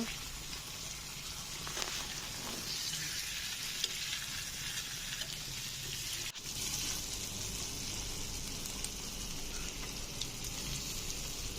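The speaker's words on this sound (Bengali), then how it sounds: "মশলাটা ভালোভাবে কষানি হয়ে গেছে এখন দিয়ে দিব হচ্ছে বল মাছ বল মাছ দিয়ে একটু কষিয়ে নিব" Pieces of boal fish (sheatfish) are sautéed in spice paste in a pan. A close, steady, dense sizzle runs throughout, with a brief scrape of stirring partway through.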